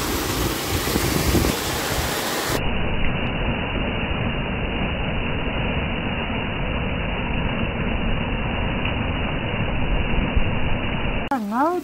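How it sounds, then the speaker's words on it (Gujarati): Heavy monsoon rain pours over village farmland, a dense, steady roaring hiss that fills the whole stretch without letting up. "નવ થઈ ગયા ને વરસાદ બંધ થવાનું નામ નથી"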